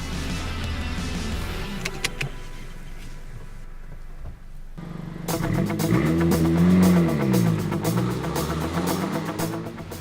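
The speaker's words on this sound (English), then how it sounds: "it's time to take it out and see how it drives." A 2017 Honda Civic Si sedan on the road, engine droning and rising as it accelerates from inside the cabin, with road and tire noise steady underneath.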